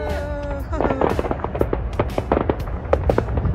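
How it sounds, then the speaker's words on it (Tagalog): Crackling bursts of fireworks pop and bang irregularly in the distance at the Calgary Stampede, amid crowd noise and background murmur. "There's the fireworks."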